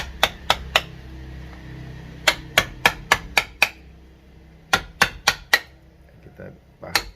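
Sharp mallet-struck chisel taps chip away blackened dead wood on a bonsai trunk, coming in quick bursts of three to six close, crisp knocks separated by short pauses, with a quiet voice murmuring between strikes.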